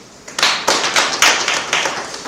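Members of a business training audience give a short round of applause, several sharp, uneven claps close by, fading after a couple of seconds.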